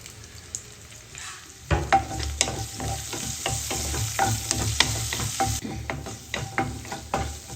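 Onion and curry leaves frying in oil give a continuous close sizzle, with repeated stirring clatter and crackles that start suddenly and keep going throughout.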